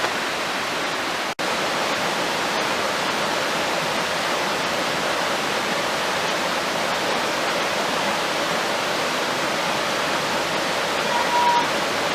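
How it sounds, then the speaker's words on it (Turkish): Waterfall at Pınarbaşı canyon in Küre Mountains National Park, heard from a bridge: a steady, loud broadband roar of falling water running unbroken throughout, with one brief dropout near the start. "şu anda şelalenin köprüsündeyiz"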